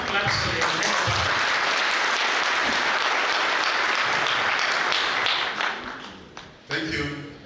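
Sustained audience applause at a public lecture on Kenyan government policy, dense loud clapping from a large room that holds steady, then thins and fades before a brief final burst.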